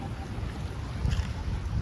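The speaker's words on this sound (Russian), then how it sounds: "Смотри, еще катер." A motorboat passes on the sea near a lighthouse, a low, steady engine rumble mixed with wind buffeting the microphone, fairly faint and continuous.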